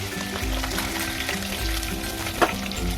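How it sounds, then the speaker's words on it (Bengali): Pieces of snakehead fish sizzle in hot oil in a wok, a steady close crackle that runs for the whole stretch over a low backing hum, with one sharper splash near the end. "মাছগুলো দিয়ে দিলাম কড়াইয়ে ভাজতে"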